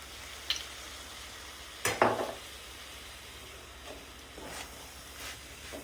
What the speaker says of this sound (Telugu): ఇప్పుడు ఇందులోనే కొంచెం సోయా సాస్, టేస్ట్ కోసం కొంచెం సోయా సాస్ వేసుకుందాము